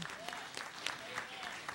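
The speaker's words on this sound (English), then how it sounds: "Give Elsie a round of applause." Quiet, scattered clapping from an audience at a panel event runs under a speaking voice, the brief claps sounding distant and soft.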